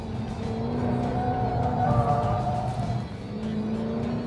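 Hyundai performance car driving with a steady, loud engine drone that carries a sustained rumble throughout and swells slightly midway, with no voices present.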